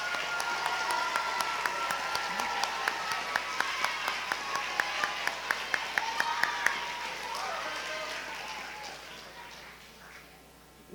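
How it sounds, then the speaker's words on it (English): Applause for teachers at a state history awards ceremony: a large hall of hands clapping steadily for about ten seconds, with a few sharp nearby claps standing out before it tapers off at the end. "Let's give them a round of applause."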